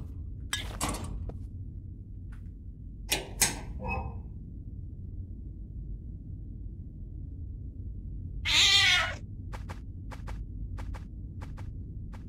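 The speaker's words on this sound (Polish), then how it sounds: "przyszedłem tutaj tylko po to, by uwolnić kota z pralki" Cat trapped in a washing machine in a video game, meowing in several separate calls spread across a quiet stretch, one longer loud yowl near the end, with a few faint clinks between.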